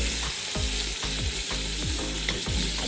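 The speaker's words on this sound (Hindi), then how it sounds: "अच्छी तरह से इसे मिक्स करेंगे ताकि टमाटो जो है वो बिल्कुल सॉफ्ट होकर मैश हो जाए" Chicken with chopped tomatoes, ginger and garlic fries in a pan, giving a constant sizzling hiss. A spoon stirs it in regular scraping strokes, about two per second.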